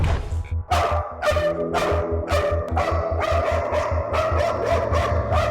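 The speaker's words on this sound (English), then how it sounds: "This is probably one of the more reactive German Shepherds that we've worked with" A reactive German Shepherd barks repeatedly in rapid, loud bursts over a steady low mechanical hum, the barks coming close together in an agitated series.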